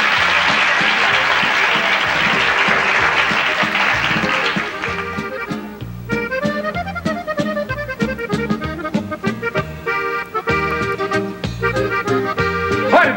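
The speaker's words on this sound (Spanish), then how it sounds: "¡Fuerte el aplauso para Bertita Primera, nuestra nueva reina de bell" A crowd applauds loudly at a beauty pageant crowning, the clapping joined partway through by a lively band playing brass-heavy music.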